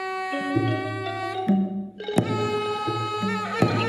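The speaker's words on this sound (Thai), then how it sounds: "อันนี้คือเสียงปีนาย" A Thai pi nai, a double-reed oboe of the traditional ensemble, plays a sustained, reedy melody close up, its held notes stepping between pitches with a sharp accent midway and no talk over it.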